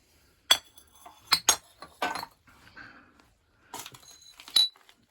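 Old glass soda bottles, Squirt and Canada Dry among them, in an abandoned home shed clink and knock together in scattered sharp bright taps, several quick clusters separated by short quiet gaps, close by and without speech.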